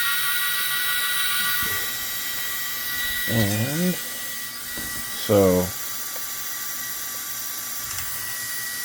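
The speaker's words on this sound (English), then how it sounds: "I'm off the throttle and it still goes" Losi Grom NASCAR RC car with its throttle released and the small electric motor still running, a steady faint whine beneath two brief rising gear-like squeals, with a few spoken words.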